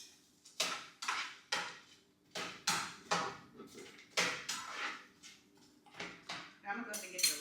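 A utensil scrapes and knocks against a pan as onions and peppers are stirred, giving a series of clear, close, repeated strokes about twice a second with quiet gaps between them.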